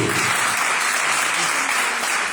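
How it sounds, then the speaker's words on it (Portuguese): Congregation at an evening church service giving a round of applause, loud, dense clapping from many people filling the whole stretch at a constant level. "Uma salva de palmas para os nossos irmãos que estarão recepcionando"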